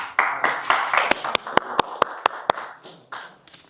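Attendees at a redevelopment association delegates' meeting clap, a burst of sharp, fairly close hand claps that settles into a few loud, evenly spaced claps before fading, with a voice briefly heard under it.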